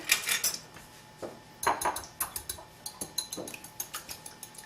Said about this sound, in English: just whisk this together